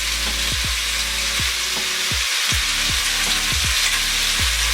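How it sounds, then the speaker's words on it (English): Seasoned beef hits hot olive oil in a pan and sizzles loudly and steadily, with a broad frying hiss throughout and several short low scrapes or thumps as the meat is moved around. "we're going to throw this in our hot olive oil now"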